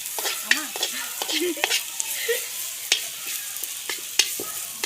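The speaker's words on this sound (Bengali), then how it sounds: "ফার্স্ট টাইম উনুনে রান্না হচ্ছে।" Food is stirred and fried over a traditional clay stove, with scraping strokes of a utensil and sizzling in irregular bursts, close and fairly quiet, while a voice hums or speaks briefly beneath.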